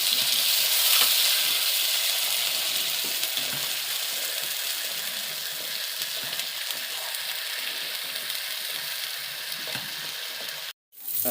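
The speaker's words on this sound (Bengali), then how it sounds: "ভেজে নেব।" Onion and chilli paste with spices frying in a pan for a mustard-poppy hilsa curry, a steady close sizzle and crackle throughout, cutting out abruptly near the end.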